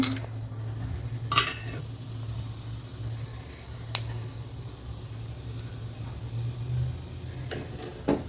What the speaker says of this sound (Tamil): இப்போ எண்ணெய் ஊற்றிடலாம். எண்ணெய் காஞ்சிச்சு. பட்டை இதெல்லாம் போட்டுடலாங்க.